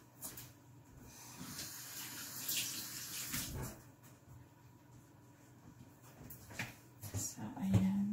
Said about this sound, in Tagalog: Hugas muna ko ng kamay